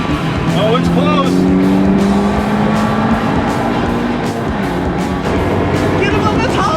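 A Mazda MX-5 Miata and a Porsche 911 drag racing, engines revving hard and rising in pitch through the gears, loud and sustained with tire noise, under excited commentary.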